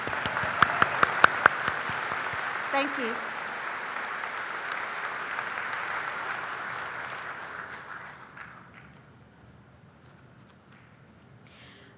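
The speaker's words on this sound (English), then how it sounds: "can we give her a round of applause?" A commencement crowd applauds a distinguished faculty member, starting with a few loud, close claps, then a broad wash of clapping that gradually fades toward quiet; a brief thank-you is spoken early on.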